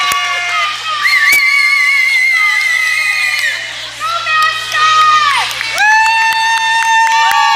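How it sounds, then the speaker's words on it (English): A crowd at a high school girls' basketball game in a gym cheers loudly and continuously, with high-pitched shouts and screams, many from children, rising and falling throughout. "Getting the crowd cheered up."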